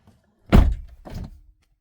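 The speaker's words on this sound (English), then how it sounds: "I'm going to close the door." A machine's door pushed shut, landing as two dull, close thunks about half a second apart, the first heavier, then quiet.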